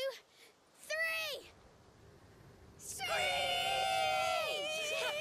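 Several voices in A Plague Tale: Requiem screech in imitation of birds of prey: a short rising-falling cry, a pause, then a loud, sustained chorus of overlapping shrill screeches that holds for about two seconds.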